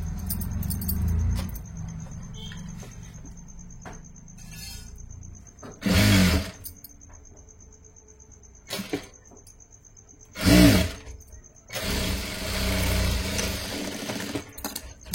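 A sewing machine stitches the sides of a blouse in short separate bursts of fast, close mechanical whirring, with quieter handling and rustling of fabric between the runs.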